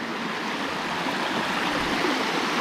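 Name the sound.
flowing water of waterfall stream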